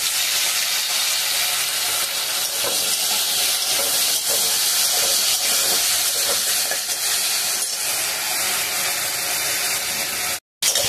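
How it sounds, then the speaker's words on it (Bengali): Pieces of taro and potato fry in hot oil with a loud, continuous sizzling hiss, close up and steady throughout, briefly cut off near the end. "আলু আর কচু সুন্দর ভাজা হয়ে গেছে।"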